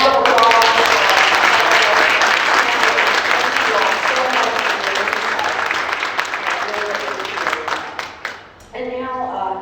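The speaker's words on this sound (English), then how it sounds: "Let's give a round of applause." Loud, dense applause fills a keynote address hall, a sustained wash of many hands clapping that slowly tapers and cuts off near the end, followed by a voice.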